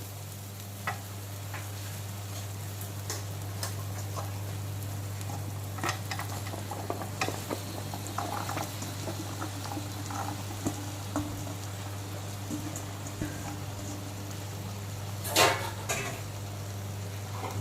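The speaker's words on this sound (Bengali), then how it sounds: "এখন 3-4 মিনিট সময় নিয়ে লো টু মিডিয়াম আঁচে অল্টারনেট করে করে এঁচোড়গুলোকে সমস্ত মশলা ডিম এগুলোর সঙ্গে ভালো করে কষিয়ে নেব" Green jackfruit is stir-fried with egg and spices in a pan over low to medium heat: steady sizzling and frying with a constant low hum, scattered scraping and stirring clatters, and a louder clink near the end.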